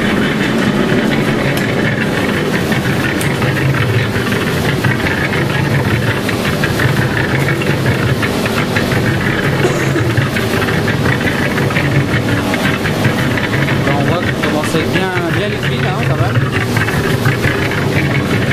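A cement mixer churns a sand-cement mortar batch, its steady loud mechanical rumble and rattling drum running continuously and close for the whole stretch, with no voice over it.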